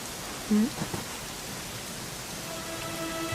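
Steady rain in the video game Dragon Quest XI hisses as a constant wash of drops, with a brief low rumble near the start and no talking.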